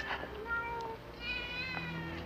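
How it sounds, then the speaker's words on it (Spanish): Several cats meowing at night, with drawn-out, wavering cries that come in close and clear over a soft, steady background, with no talk. "Solo son unos gatos."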